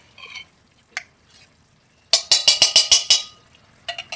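Ghee heats in a pan and is stirred, giving a quick run of sharp sizzling scrapes in a tight rhythmic burst, then a few softer clicks before and after, with no talking.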